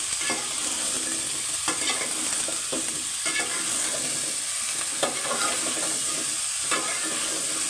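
Spice paste stir-fries in a pan for a Bengal drumstick curry, hissing in a steady sizzle broken by periodic scrapes and stirs of the spatula, close and continuous.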